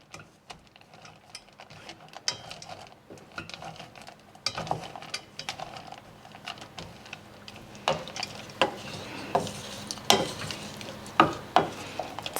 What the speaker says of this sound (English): We're going to stir this pretty constantly so we don't burn the chocolate.